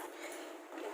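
Hot water poured into a hot pan while cooking a fish dish gives a steady, dense hiss that carries through the whole moment without pause.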